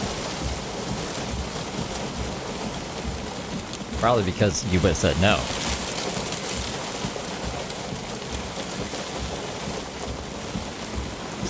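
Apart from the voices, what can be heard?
rain falling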